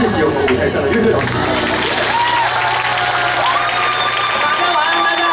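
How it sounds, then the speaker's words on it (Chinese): Warm, sustained applause and cheering from a concert audience rise for the band on stage as a performer speaks over the clapping. "再用你们最热情的掌声，谢谢我们舞台上的乐队老师"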